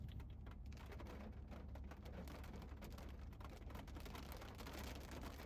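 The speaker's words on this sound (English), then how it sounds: "And it's raining again." Steady, dense rain falls outdoors with constant hiss and spatter at an even level throughout, no voices over it.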